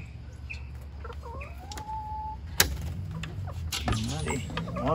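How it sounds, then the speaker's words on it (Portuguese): White guinea fowl kept on a rural ranch give a series of short, sharp, rising calls close by, while people talk quietly over the flock. "Umas galinhas da Angola, né, moço? Quer ver? Galinha branca da Angola."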